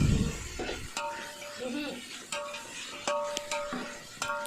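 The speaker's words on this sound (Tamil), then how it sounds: "இஞ்சி போட்டுட்டு நல்லா வதக்கிடலாம்." Ginger sautés in a pan for mutton dum biryani, a quiet sizzle broken by repeated metallic spoon scrapes and clinks against the vessel, with a brief low thump at the start.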